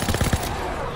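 Video game gunfire during a zombie fight: a rapid burst of three or four loud, close shots in the first half-second, followed by a ringing, noisy tail.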